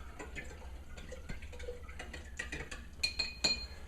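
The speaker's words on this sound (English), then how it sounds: "And then we'll stir this around." A utensil stirs tinted wood finish in a small cup, giving light clinks and ticks against the sides, irregular and soft, with a few brighter taps near the end.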